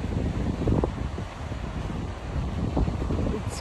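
Gusty wind buffets the microphone at St Kilda Beach on a cool 22-degree day, a steady low rumble with uneven surges and no voices.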